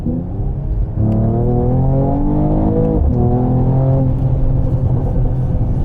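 A Mercedes-AMG GT 53 4-door 4MATIC+ sedan accelerates, its engine note climbing steadily in pitch through two smooth, continuous pulls. The sound is loud and close, with no talk over it.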